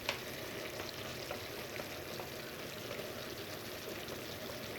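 Vinegar goes into a pan for chicken macaroni along with chili sauce, a soft continuous pour and faint sizzle holding at an even, quiet level for a few seconds without speech.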